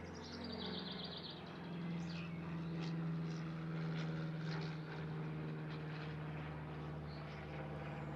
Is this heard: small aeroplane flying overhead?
yes